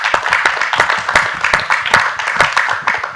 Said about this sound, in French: Oui, on peut applaudir.